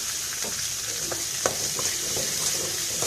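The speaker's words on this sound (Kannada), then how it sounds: "ಈರುಳ್ಳಿ ಚೆನ್ನಾಗಿ ಫ್ರೈ ಆಗಲಿ" Onion, garlic and two dried chillies fry in a pan, a continuous bright sizzle broken by soft scraping and clinks as the mix is stirred, heard up close without talk.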